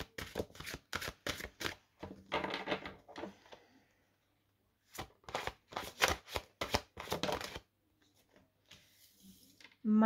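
Tarot cards being shuffled, handled and drawn, giving bursts of quick crisp riffling and slapping close by, with short pauses between.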